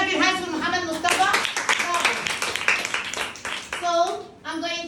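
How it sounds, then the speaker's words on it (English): Children in a classroom clap their hands for a classmate during a telling-the-time lesson, a brisk run of quick claps between bits of an adult voice speaking, close and lively. "Clap your hands for Muhammad Mustafa."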